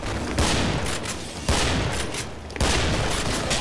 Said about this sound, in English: It's shooting rockets.